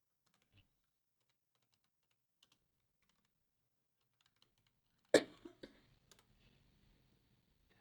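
Typing on a computer keyboard while entering a command prompt instruction: a quick burst of sharp key clicks after a mostly silent stretch, close and fairly soft, with a few isolated taps before it.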